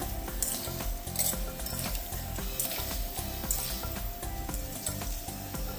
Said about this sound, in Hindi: मीडियम से ऊंची आंच पर फ्राई करिएगा, इनके गोल्डन ब्राउन होने तक इन्हें फ्राई करिएगा।